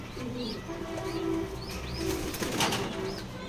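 Racing pigeons in a loft give soft repeated coos while wings flap in short bursts, close by, with a brief rustling clatter of flapping near the end.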